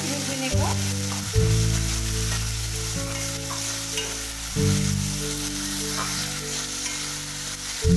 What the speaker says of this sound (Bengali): প্রথমে সাদা তেলে আমি পরিমাণ মতো গোটা জিরে দিলাম এবার পেঁয়াজটা দিয়ে দিলাম